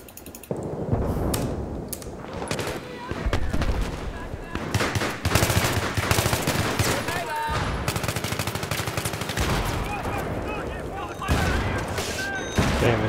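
AK rifle fire in a Battlefield 3 conquest match on the Grand Bazaar map, loud bursts and rapid automatic volleys repeating over several seconds, mixed with other battle noise.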